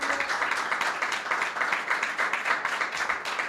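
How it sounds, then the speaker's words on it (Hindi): A church congregation at a Sunday prayer meeting applauding, a dense, sustained burst of many hands clapping in a fairly steady, rhythmic pattern. "यीशु मसीह के लिए तालियां बजाएं कलीसिया।"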